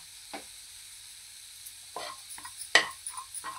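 Eggs frying in a little oil over onion garlic masala for a Maharashtrian egg curry give a faint, quiet sizzle, punctuated by a few soft spatula scrapes and one sharper clink near the end, with no voices.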